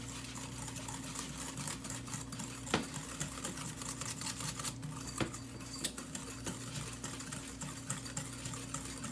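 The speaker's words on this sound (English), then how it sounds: "hand mixer, or you can use a whisk. I'm using a whisk." Batter whisked by hand with a whisk, a fast scraping rhythm of wire against a bowl, a few sharper knocks standing out, quiet and close, without any talking.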